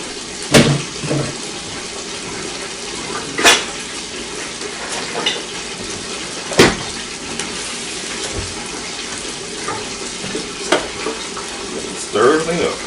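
Food frying in a pan while being stirred, a continuous sizzle punctuated by several sharp utensil knocks and scrapes at irregular intervals, close and fairly loud with no voices.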